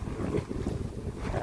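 Dry wind gusts into the microphone outdoors. The buffeting rumble rises and falls across the short stretch, with no speech heard.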